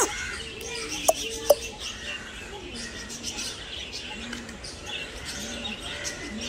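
Parrots calling in an aviary at Mettur zoo in Tamil Nadu: faint, scattered chirps and a couple of sharp clicks over a steady outdoor hum, with no single call standing out.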